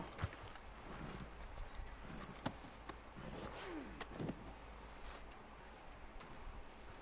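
Horse hooves clip-clop on a road in a PS4 video game while the horse carries dead bodies to the jailer, a soft, steady run of hoof hits under faint ambient noise.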